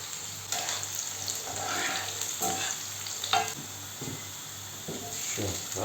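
Sulphur shelf mushrooms stewing in a pan, a steady close sizzle of frying with scraping stir strokes at irregular intervals and no voices.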